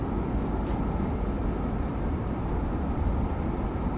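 Train in Train Sim World 4: a low, steady rumbling drone of the moving train with faint rail noise, even and continuous, no voices.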